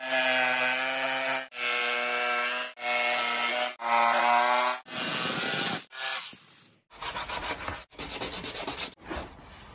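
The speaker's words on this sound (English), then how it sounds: "So I need to cut that hole out now while it's easy to do so." A power tool saws through a panel in a miniature electric Land Rover build to open a hole for an aluminium control panel, in a series of loud buzzing, rasping strokes with brief pauses, close up and without speech.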